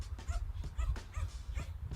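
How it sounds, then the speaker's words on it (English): A small dog barks in a quick series of sharp yaps and whimpers, fairly near, heard outdoors during a walk with low rumbling background noise. "oh, that's just a little dog"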